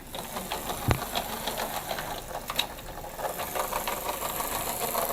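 OO gauge model BR class 33 diesel locomotive running on a model railway layout, giving a steady close mechanical whir with rapid rattling from the track and one sharp click near the start, no talking.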